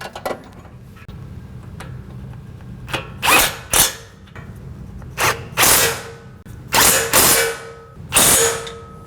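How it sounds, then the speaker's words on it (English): Power tool driving winch mount bolts back into a winch mount on a 2025 Yamaha RMAX4 side-by-side during brush guard installation, heard as several short whirring bursts of about half a second each, close and fairly loud, with pauses between them and no talk. "put our winch mount bolts back in here."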